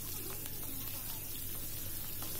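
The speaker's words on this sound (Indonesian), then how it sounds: "untuk cabai keritingnya ini sesuai selera saja langsung digoreng" Curly chilies, garlic, shallots and candlenuts fry in hot oil for a satay peanut sauce, giving a steady, close sizzle with faint stirring.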